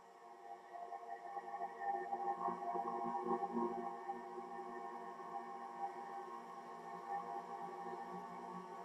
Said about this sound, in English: Jupiter's atmosphere sounds like this.